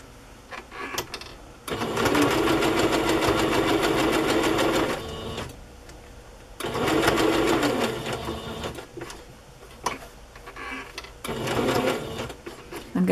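A sewing machine stitches vintage fabric in three long bursts of rapid, even mechanical whirring, each run lasting a few seconds and separated by short pauses with quiet handling noise.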